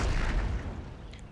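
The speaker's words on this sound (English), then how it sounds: "One of the bombs just went off." A bomb goes off in the strategy video game Imperial Destroyer, a short, loud, deep boom that fades out quickly, with no talk.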